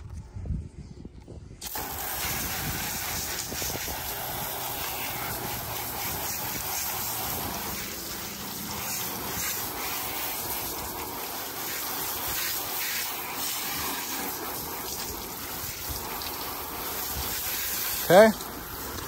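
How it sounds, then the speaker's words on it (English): Garden hose spraying water onto a car's paint to rinse off adhesive residue after debadging, a steady close hiss of spray lasting throughout. "let me use the hose to rinse this off"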